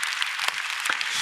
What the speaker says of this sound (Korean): 다시 한번 우리 주님께 박수로 감사와 영광 올려드립니다.